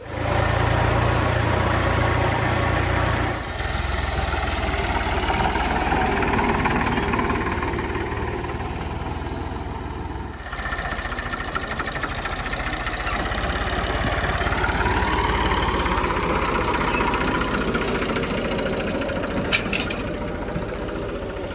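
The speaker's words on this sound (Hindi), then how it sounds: "इधर खड़े हैं जी दो ट्रैक्टर" A farm tractor idles in a village, its engine making a steady, loud, rough mechanical rumble that runs throughout with slight shifts in tone and no talking.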